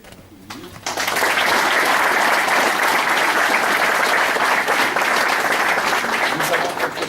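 A large audience at a martial arts grading ceremony for high-ranking dan holders in the Nord-Pas-de-Calais region bursts into sustained, dense applause that starts suddenly after a brief quiet moment and holds steady at full volume.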